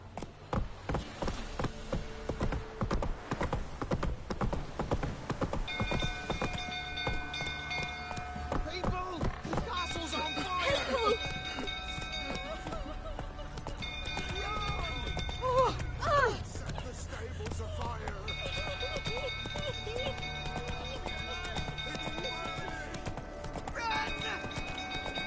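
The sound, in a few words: horse Roach galloping, The Witcher 3 video game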